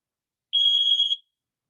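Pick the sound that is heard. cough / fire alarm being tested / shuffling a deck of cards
fire alarm being tested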